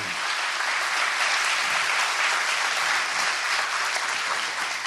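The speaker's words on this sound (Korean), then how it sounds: "박수 한번 좀 부탁드리겠습니다." Sustained applause from an audience at a talk, a dense, even wash of many hands clapping at steady loudness throughout, with no voices standing out.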